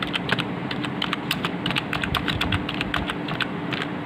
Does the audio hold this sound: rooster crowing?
no